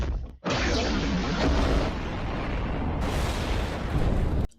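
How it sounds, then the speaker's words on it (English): A loud engine room explosion in a film bursts out and roars into a sustained rushing blast, with a harsh hissing surge near the end before cutting off abruptly. "the engine room explosion looks really cool"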